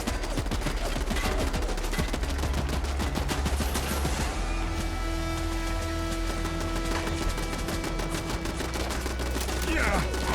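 Enemy gunfire in Fallout London, long stretches of rapid, clattering shots in dense bursts, loud and sustained, broken by a brief lull and a sharper impact near the end.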